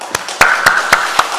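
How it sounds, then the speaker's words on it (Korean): A church congregation claps in welcome for a newcomer in a wheelchair, a short run of about five loud, sharp claps spaced evenly. "우리 박수 한번 하죠."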